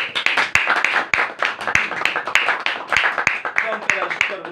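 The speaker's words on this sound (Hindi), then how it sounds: "एक बार जोरदार तालियां" Hands clap loudly and close by, in irregular bursts of sharp claps, and voices can be heard among them.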